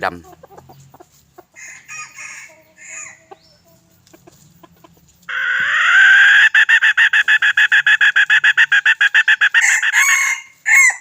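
A rooster lets out a long, loud crow close by after a stretch of quiet clucks and rustling, then gives a short final call at the end.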